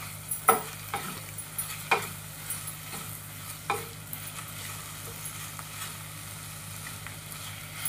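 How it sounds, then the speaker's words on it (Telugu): Ground coriander and cumin being stirred into an eggplant fry in a pan, with a scattering of soft spoon scrapes and light taps over a low, steady background hum, fairly faint and with no voices. "ఇప్పుడు అంతా ఒకసారి మిక్స్ చేసుకుందాం."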